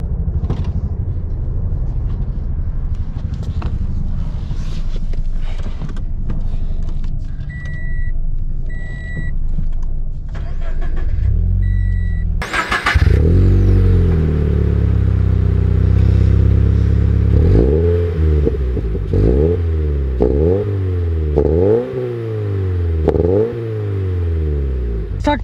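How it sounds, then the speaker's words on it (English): A 2020 Toyota 86 TRD sports car cranks over and fires up, its engine settling into a loud steady idle before revving repeatedly as it pulls away, up close with no talking. "let's take this TRD 86 out and see how she drives"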